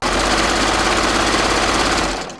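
A home sewing machine runs at speed with the presser foot left down, a loud, fast, even mechanical chatter that holds steady for about two seconds before winding down.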